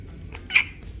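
A cat gives a single short meow near the middle, a brief clear call over a quiet background.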